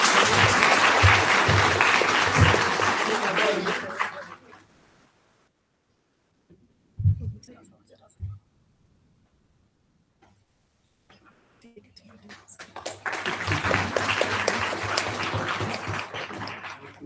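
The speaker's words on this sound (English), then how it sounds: "Students, give a huge round of applause." Students applaud at a lecture felicitation during a gender sensitisation talk: two loud bursts of dense clapping, with a quiet stretch and a few isolated thumps between them.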